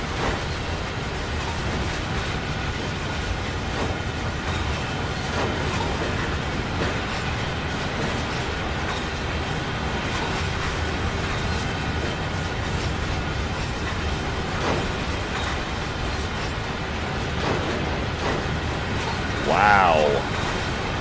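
Long freight train in Train Sim World 6 on the Cheyenne to Laramie line rolls slowly at about 13 mph, a steady low rumble with faint clatter and a brief squeal near the end, while someone talks over it.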